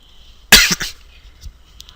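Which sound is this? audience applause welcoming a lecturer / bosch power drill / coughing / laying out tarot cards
coughing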